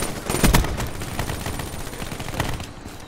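Rapid gunfire in Black Ops 3, with sharp repeated shots in quick bursts, loudest early and then continuing in scattered volleys, close and dense with no talk over it.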